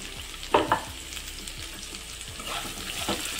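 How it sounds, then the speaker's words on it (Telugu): Chopped onions frying in a pan for a tomato drumstick curry, a constant sizzle with scraping stirs and a couple of sharper knocks near the start, close and fairly loud. "ఇప్పుడు మనం ముందుగా కట్ చేసి పెట్టుకున్న ఆనియన్స్ వేసేసుకుందాం"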